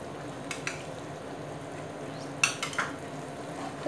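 Wheat halwa with ghee and oil being stirred in a pan on the stove, a low steady sizzle broken by a few sharp scrapes and clinks of the spoon against the pan, close by and without talk.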